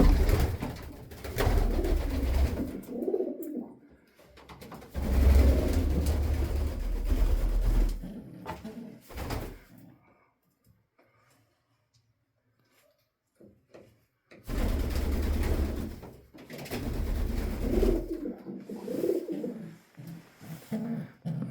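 Pigeons in a pigeon loft coo in low, soft bursts, near and clear, with two runs of cooing separated by a long quiet gap.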